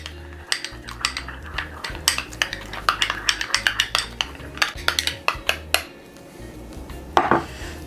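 A whisk or spoon clinks repeatedly against a bowl while aioli is mixed, giving a brisk, uneven run of close metallic taps and scrapes with no voices.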